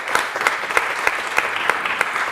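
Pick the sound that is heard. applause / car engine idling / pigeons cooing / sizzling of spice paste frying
applause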